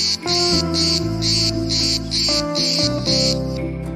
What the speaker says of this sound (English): Adult male cicadas spend their brief above-ground life making loud clicking and humming noises